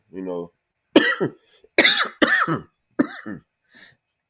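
Several harsh coughs in short bursts, loud and close, with a brief vocal sound at the start and a faint throat noise at the end.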